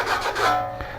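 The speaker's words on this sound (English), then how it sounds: "you just take a piece of sandpaper and just make sure you got a perfect edge" Sandpaper worked along the edge of a plastering trowel, making a steady close-up rasping rub over about a second with no talk.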